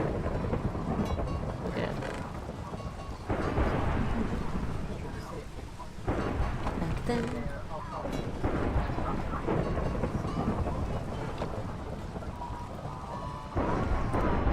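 Heavy rain and rolling thunder from a storm in the Minecraft modpack Sky Factory 3, a dense, loud wash of noise with swelling rumbles that runs throughout, with brief talk over it.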